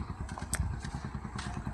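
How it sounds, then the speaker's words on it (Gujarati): A motorcycle engine putters with a quick, even rhythm of low thumps, running at a steady idle close by with light clattering over the top. "બાઈક ચાલુ કરી નાખો"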